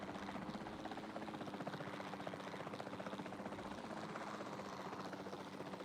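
Helicopter in the dinosaur-park video game Jurassic World Evolution 2: a continuous fast rotor chop over an engine drone, fairly faint and steady throughout, with no voices.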